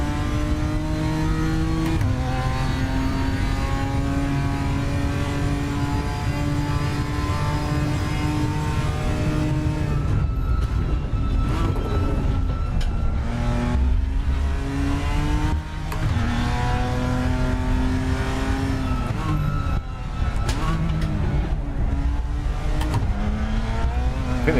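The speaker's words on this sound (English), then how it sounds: "Car sounds nice as well." A race car engine in the RaceRoom sim racing game revs loudly and continuously, its pitch climbing and dropping through repeated gear shifts and throttle blips, with no voices.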